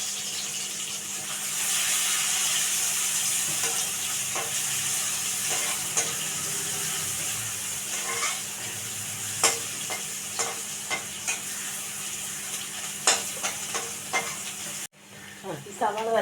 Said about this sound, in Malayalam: അത് ഈ വറുത്ത എണ്ണയിൽ തന്നെ ഇട്ട് മൂപ്പിക്കുകയാണ്